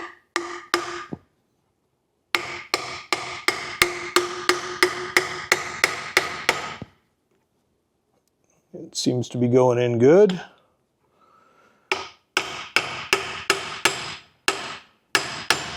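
A seal being driven into a Dana 44 front axle spindle takes a steady series of sharp metallic hammer blows in quick bursts, close and loud, broken by a pause where someone speaks briefly.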